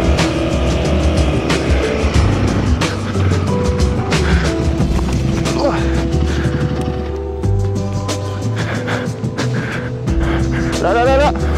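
An off-road motorcycle accelerating up a sand dune in Morocco: a loud engine revving and surging continuously through the whole stretch, with wind buffeting and a rider speaking under the engine noise.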